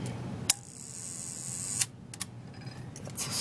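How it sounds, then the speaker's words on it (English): A camera shutter snaps shut several times, sharp mechanical clicks separated by quiet gaps and followed by faint handling noises, with no talking. "then the shutter will close at different rates depending on where I move it to."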